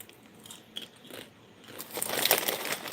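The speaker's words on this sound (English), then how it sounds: "Can you hear me crunch?" Someone bites and chews banana chips close to the microphone, a few light crunches at first and then a denser burst of crisp crackling.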